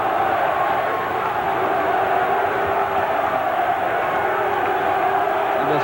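A boxing arena crowd at a WBO super-middleweight title fight between Chris Eubank and Sam Storey roars steadily behind the challenger, a dense, continuous wall of cheering that holds at an even level throughout.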